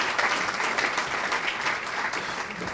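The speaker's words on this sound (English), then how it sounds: "So round of applause for my fellow committee members." Round of applause for committee members at a chamber of commerce annual meeting, a short burst of steady clapping from a sizeable crowd.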